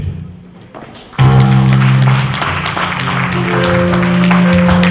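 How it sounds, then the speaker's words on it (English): Audience at a Lisabi Nite 2005 event applauding the chairman, a broad steady wash of clapping that swells in loudly after a quiet start and holds, with a sustained musical tone running underneath. "Please, a big round of applause for the chairman."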